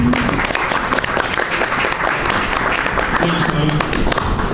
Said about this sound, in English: I want to give a round of applause to Brent Payne.